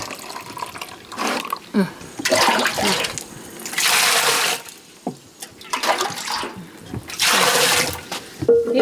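Buttermilk left over from churning butter at a Carpathian highland pasture is poured out in several bursts of splashing liquid, each lasting a second or two with brief quieter gaps between them.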